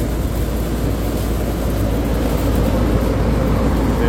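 A loud air conditioner unit runs with its frame shaking, giving a steady, close, rumbling drone with a constant hum that never lets up.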